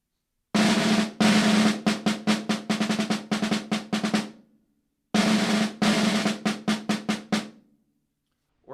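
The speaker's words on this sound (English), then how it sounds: "So hopefully it'll sound like this with the roll back into it." Snare drum etude, measures 12 to 14, played twice with a roll: a sustained buzz roll followed by crisp accented strokes in a quick rhythmic run, loud and close, with a brief silence between the two passes.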